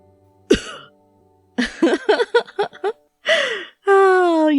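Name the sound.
coughing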